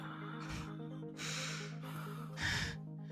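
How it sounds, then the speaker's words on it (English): A woman panting and gasping for breath, with several sharp, close inhalations and ragged breaths separated by short pauses, the last gasp the loudest. "panting, desperately grasping for breath"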